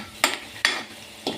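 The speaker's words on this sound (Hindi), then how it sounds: "मैंने घी गरम करके उसमें प्याज डाल दिए छौंक तैयार करने के लिए।" Onions fry in hot ghee for a tempering: three sharp sizzling bursts, each fading quickly, at close range with no voices.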